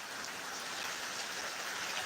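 Heavy rain pours steadily beside the government college at Rajar Bagan, Satkhira, a dense, even hiss of water close by with no breaks and no voices.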